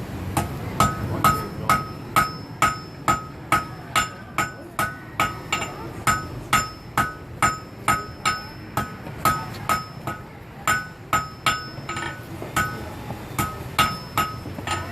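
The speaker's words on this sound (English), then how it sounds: "the first thing I'll do is hammer the tip down to a point" Steady metallic hammer blows on an anvil ring out about once every half second, bright and clanging, as a forged knife tip is hammered to a point, repeated many times without pause.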